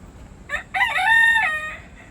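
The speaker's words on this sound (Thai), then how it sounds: "มีเสียงไก่ขันด้วยนะ" A rooster crows once nearby on a farm in Japan, a clear rising then sustained call lasting about a second, with faint outdoor background noise.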